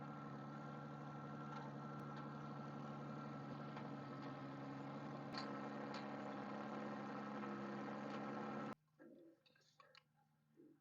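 A farm tractor idles steadily with its PTO engaged to drive a feeder, a constant mid-pitched engine hum that cuts off abruptly near the end, leaving quieter scattered noises.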